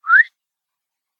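A single short rising whistle, quick and clean, imitated by a person, then complete silence.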